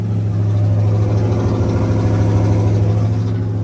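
A square-body truck engine runs at high idle, a steady, loud, low rumble that holds even throughout, close by with no talk.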